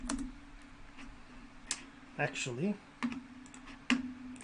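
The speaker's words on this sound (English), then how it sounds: "I'm having trouble typing here" Typing on a computer keyboard: a handful of sharp, separate key clicks in a slow, uneven rhythm, heard close under a man's speech.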